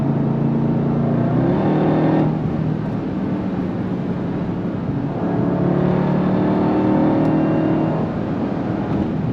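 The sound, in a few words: 2026 Dodge Durango Hellcat Jailbreak V8 engine revving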